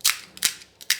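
A crispy pani puri shell cracks and crunches in several sharp, brittle snaps spaced through a second, close and clear with no talk.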